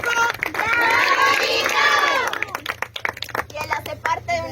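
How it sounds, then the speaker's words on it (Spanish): A crowd of children claps and cheers for Nico at a school desk donation event in Colombia. Excited, loud shouting voices come first, then rapid, scattered hand claps ring out close by with chatter mixed in. "Y se merece un aplauso por eso."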